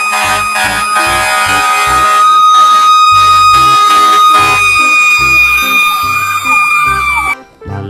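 A toy fire truck blares a loud, close electronic siren with a sustained wailing tone over a pulsing horn-like pattern, running continuously before cutting off abruptly near the end.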